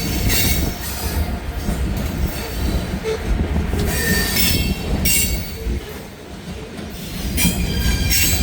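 Trains pass on a cold, windy morning in Hamilton, their wheels squealing loudly and continuously over a dense rumble of rolling railcars, close by with no talk.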